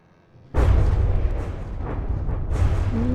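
A sudden heavy explosion erupts in the naval combat building game From the Depths, a loud deep boom followed by sustained rumbling and crackling debris, with a second burst near the end.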